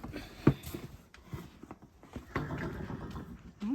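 Horses whinnying at grain feeding time on a farm, a sharp nearby neigh followed by a rising whinny at the end, with hoof clops and stable shuffling in between.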